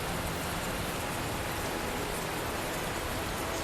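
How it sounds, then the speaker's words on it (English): Pouring rain in the Tales of Zestiria video game forms a steady, dense hiss of downpour, constant and loud, with no voices. "This rain is something else. How can it be tranquil over by Lady Lake and yet pouring so hard right here?"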